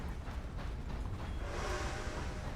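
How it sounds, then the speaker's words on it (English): A passing train in a western-themed multiplayer game sets off a steady mechanical rumble and creaking, with a broad rushing wash swelling louder near the end as it rolls close by. "That's the train."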